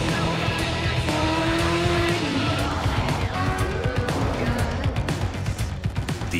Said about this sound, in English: the thrill of accelerating 0 to 60 in approximately 3 seconds